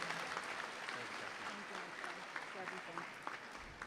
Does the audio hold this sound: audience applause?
yes